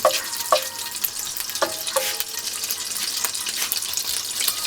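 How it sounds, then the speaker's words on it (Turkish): Rice being added to a hot pan and frying, a steady sizzle with a few sharp scraping stirs and clinks scattered through, close and continuous. "Yavaş yavaş pirinçleri ilave ediyoruz arkadaşlar."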